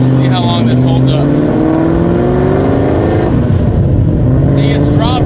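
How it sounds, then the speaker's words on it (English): A Mustang engine with a newly fitted motor runs loudly and close, its steady drone shifting in pitch as the revs fall back toward idle, with no one talking. "See, it's dropping. It's dropping RPM now, listen. It's running normal."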